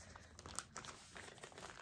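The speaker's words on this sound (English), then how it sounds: "Hate to tear into the bag, but" Close, quiet crinkling and tearing as a paper bag wrapped in holiday wrapping paper is pulled open, with several sharp rips amid the rustling.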